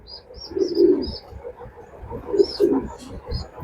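Soft, repeated cooing of racing pigeons close by in their loft, coming in low rolling bursts with a few faint higher chirps between them.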